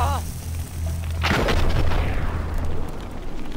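A pistol gunshot from the Western video game Red Dead Revolver, a sharp loud blast whose boom rolls out and fades over a couple of seconds, with a low game soundtrack hum beneath.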